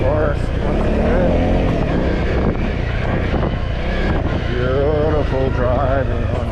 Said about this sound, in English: Let's just let the engine do the work.